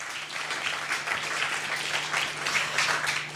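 An audience at an economic seminar applauds in a steady, dense patter of clapping that carries on for a few seconds at moderate volume, without voices.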